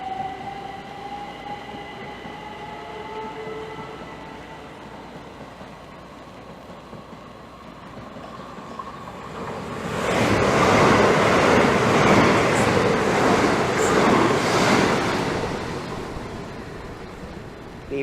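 A Class 375 electric multiple unit passes Swanley station on its way to Ramsgate and Dover, its low rumble swelling suddenly into a loud, close roar of wheels and motors that holds for several seconds before easing off.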